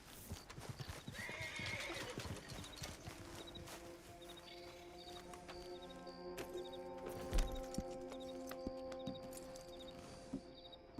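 Hooves clip-clop and a horse whinnies in the Red Dead Redemption 2 Online game, with quiet steady hoofbeats throughout and a few sharper snorts and neighs over faint ambient game sound.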